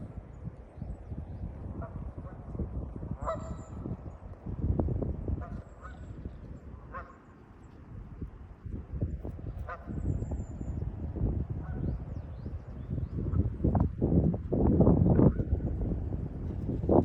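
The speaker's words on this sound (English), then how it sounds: "the geese are singing their song on the Patapsco River" Geese honk repeatedly on the Patapsco River, their calls scattered through the clip over steady wind buffeting the microphone, with occasional louder gusts and faint other bird calls.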